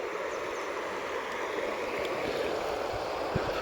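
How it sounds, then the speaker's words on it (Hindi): A river flows steadily past a forest homestay, a continuous broadband rush of water that stays even and close throughout, with no voices. "आपके कानों में, आपके रूम के अंदर ही इस पानी की आवाज़"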